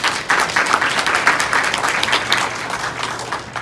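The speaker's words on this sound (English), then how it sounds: "So give yourselves a round of applause for that." Employee audience at a hospital town hall applauds in a steady, dense wash of clapping that stays fairly loud and even for a few seconds, with no one speaking over it.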